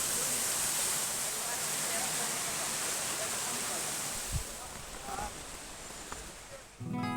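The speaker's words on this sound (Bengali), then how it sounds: "এদিকে দেখো ঝর্ণার জল পড়ছে খুব সুন্দর।" A waterfall pours on a hillside trail near Darjeeling, a steady rushing roar holding at an even level throughout, with a few faint voices and a brief low thump near the end.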